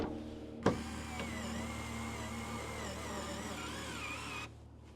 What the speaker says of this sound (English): I love this Fantic screwdriver.